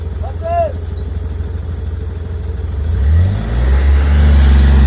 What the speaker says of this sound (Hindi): तो अभी मैं ले चल रही हूँ स्कूटी को